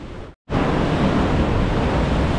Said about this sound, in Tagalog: lakas ang alon mga kabisdak. Alright, lakas ang alon.